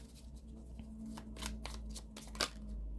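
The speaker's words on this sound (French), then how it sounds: "On va aller maintenant tirer une petite carte des accords Toltec" Oracle cards from a Toltec agreements deck being shuffled and drawn by hand, a run of soft papery riffles and slides at close range over a steady low hum, with one sharper flick near the end.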